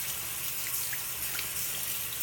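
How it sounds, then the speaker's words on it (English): Tap water runs steadily into a sink while a motorcycle helmet visor is washed under it, a soft continuous hiss with faint splashes and no talking. "Under running water,"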